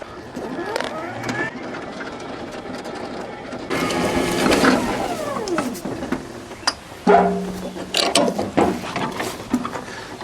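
A Toro battery-powered ride-on mower is switched on and put into reverse, giving whirring, ratcheting mechanical sounds and a rising electric whine that come and go with clicks and knocks, while a person talks at times.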